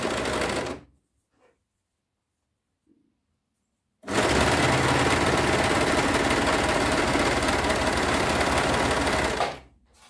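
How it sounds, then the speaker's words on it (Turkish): An overlock sewing machine joins fabric pieces for children's sweatpants, with a short burst of stitching, a few seconds of silence, then a long steady whirring run that stops abruptly, with no speech. "ağlarımızı da overlock'ta birleştiriyoruz"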